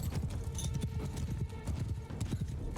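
Cavalry horses galloping in battle in Mount & Blade II: Bannerlord, a dense rapid drumming of many hooves, close and continuous, with a brief whinny, no talk.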